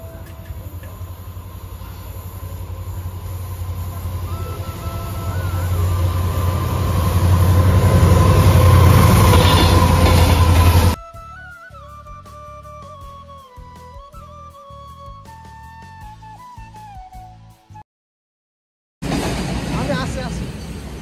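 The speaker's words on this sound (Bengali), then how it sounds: "গরমের দিনে ট্রেনের জার্নি মোটামুটি ভালোই লাগে, তাই না?" A train rumbles along the rails with a steady roar that swells louder, then cuts to quieter clatter and talk.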